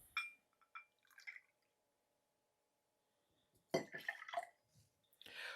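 Lemonade is poured into a cocktail shaker in two short bursts separated by a long silence, close and fairly quiet, with a light liquid splash and clink against the shaker.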